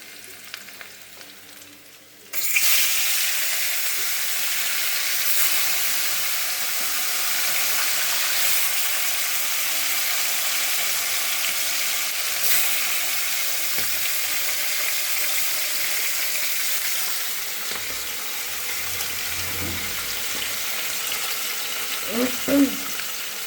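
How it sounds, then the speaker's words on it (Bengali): Chopped vegetables fry in hot oil in a kadai, a loud steady sizzle starting abruptly after a quiet moment and running unbroken, with occasional stirring clatter near the end. "সবজিগুলো ভালো করে ভাজা হয়ে গেছে"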